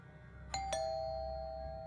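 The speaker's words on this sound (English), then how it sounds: "You guys notice how Paula stopped ringing the doorbell?" A two-tone doorbell chime from a horror video game rings once, the second note ringing out and slowly fading, with no talking.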